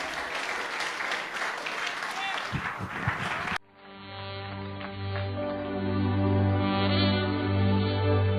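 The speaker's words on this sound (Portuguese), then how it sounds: "Dá mais uma salva de palmas para Jesus" A church congregation claps in a dense, lively burst for a few seconds before it cuts off abruptly and gives way to a sustained tonal sound.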